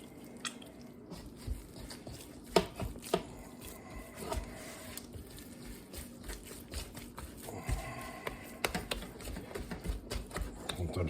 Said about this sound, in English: I like to slap it like this with my fingers because I got to work it in more